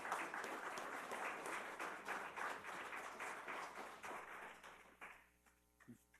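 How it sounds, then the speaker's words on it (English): Forum audience applauding presenters at a landpower education event, a faint, distant wash of many hands clapping that fades out near the end, followed by a brief murmur of voices. "let's have a round of applause for our great presenters here today"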